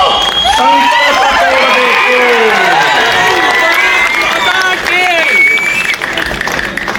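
A large rally crowd at a political speech claps, cheers and shouts together in a loud, continuous roar that fills the whole stretch, with voices calling out over the applause.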